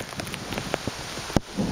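Rain falling during Hurricane Isaac in southern Alabama, a steady close patter of drops with one sharp knock near the end and a heavier wash of rain right after it.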